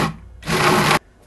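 A food processor pulses once while the butternut squash risotto is being made, a loud broadband whirring burst of about half a second, close by with no voices.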